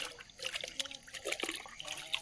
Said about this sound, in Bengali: এখানে জল তুলছি, জল দেবো